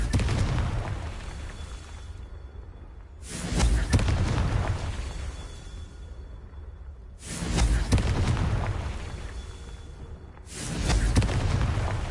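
Three loud, separate fiery blasts of the Confringo spell in Hogwarts Legacy, each one a sharp bang followed by a rumbling decay, spaced a few seconds apart.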